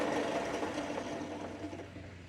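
A belt grinder running a 220 grit sanding belt against a knife with a resin handle, pins and tang, giving a steady, fairly faint broadband whir and hiss with a low motor hum that holds throughout.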